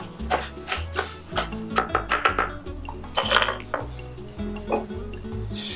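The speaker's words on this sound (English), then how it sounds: "So what we're doing here is we're browning the uncooked rice." A utensil stirs uncooked rice browning in olive oil in a pan, making repeated scraping clinks and light scratchy strokes close up in an irregular rhythm, with a soft sizzle underneath.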